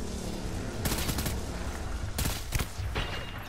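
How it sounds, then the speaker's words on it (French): Rapid bursts of gunfire from the video game Death Stranding, with dense volleys near 0.9 and 2.2 seconds and sharp shots near 2.6 and 3 seconds, heard loud over a steady noisy background. "Tiens, en même temps, je tire un peu partout"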